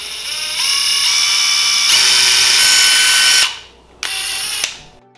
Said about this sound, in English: All I'm gonna do is simply drill a hole in the center of my cinnamon sticks.